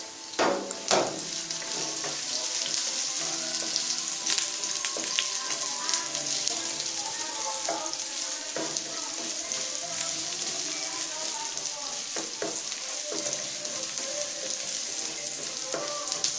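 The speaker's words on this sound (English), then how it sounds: "there goes the garlic in the pan" Garlic and onions frying in a pan for a home-cooked rice lunch, a dense crackling sizzle punctuated by sharp spatters and occasional utensil knocks, steady throughout with no voices.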